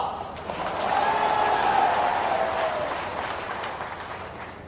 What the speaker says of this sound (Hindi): जोर से ताली बजाकर स्वागत